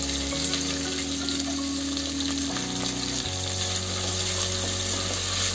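Onion frying in a pan for veg pulao gives a continuous, fairly loud sizzle with a constant steady texture throughout.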